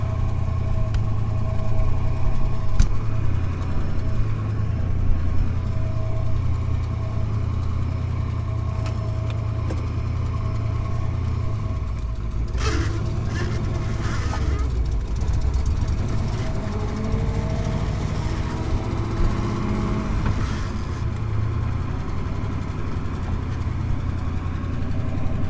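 A turbocharged V8 swapped into a BMW E36 drives along, its steady low engine drone filling the cabin from start to finish, with faint rattles and road rumble over it and no voices.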